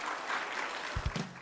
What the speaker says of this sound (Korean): 큰 박수로 모셔주시면 감사하겠습니다.